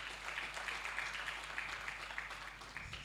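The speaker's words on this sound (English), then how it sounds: "With a big hand clap, please." Faint, steady applause from an audience welcoming a guest of honor, the minister of state for finance, at a report launch event, continuing evenly for a few seconds.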